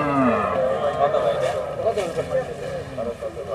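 Sahiwal cattle being unloaded at the Hazratpur cattle market let out a close, drawn-out moo over a busy background of market voices and engine rumble.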